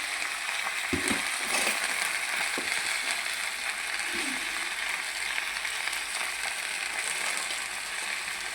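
Malabar spinach leaves frying in a hot pan for a Telugu-style chutney, a steady broad sizzle with occasional crackles and light stirring scrapes running throughout, no talking.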